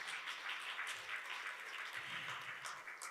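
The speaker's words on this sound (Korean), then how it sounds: "다시 한번 박수 부탁드립니다" Soft, distant applause from an audience at a book launch celebration, a steady wash of many hands clapping that continues evenly for several seconds with no voices.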